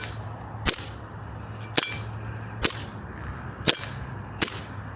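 CO2 BB pistols, a Sig Sauer Emperor Scorpion 1911 and a Beretta APX, fired one after the other: five sharp, evenly spaced cracks about a second apart over a low steady hum, close and crisp.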